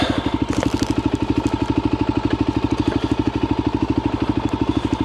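A motorcycle idles up close while being parked on a Spanish trail outing, a loud, steady, rapid chugging pulse that holds its even rhythm throughout with no talking.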